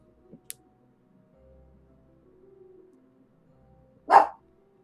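A dog barks once, a single sharp bark in a quiet indoor room after a couple of faint clicks, loud and close.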